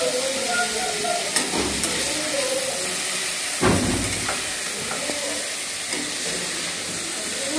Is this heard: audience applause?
no